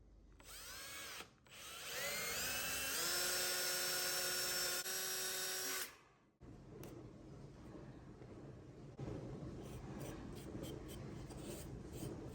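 A power drill bores into an antique wooden cabinet during a jewelry-cabinet makeover. It whines at a steady pitch for several seconds with a brief stop, then gives way to quieter scraping and handling sounds, with no talking.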